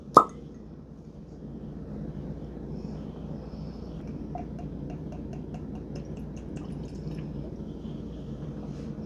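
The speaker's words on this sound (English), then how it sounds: "Ready for this cork pop?" A cork pops from a bottle of 115-proof, four-year Texas grain-to-glass whiskey: one sharp, close pop right at the start, followed by quiet low background hum.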